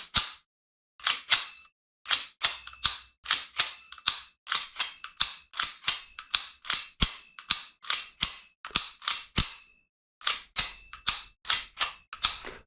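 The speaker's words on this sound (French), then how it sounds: "là on a le bruit du canon externe ding ding, le bruit du marteau, hein, ça fait un petit bruit métallique bien sympa" Custom replica pistol being handled, with its outer barrel and hammer giving sharp metallic dings and clicks, about two dozen crisp, bright impacts in an irregular series, close and loud with short silent gaps between them.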